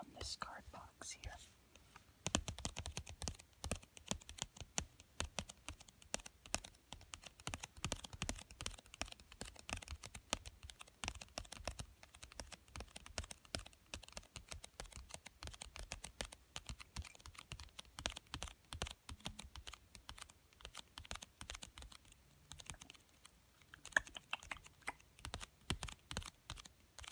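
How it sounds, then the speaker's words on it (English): Soft, rapid fingertip tapping on a cardboard box runs steadily at close range in a quiet ASMR setting, with faint whispered speech underneath. "I'm gonna tap on this card box here."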